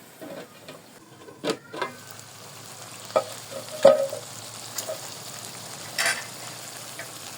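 A spoon gently stirs loitta fish curry in a pan, giving soft scrapes and taps at uneven intervals over a low, steady sizzle, close and fairly quiet.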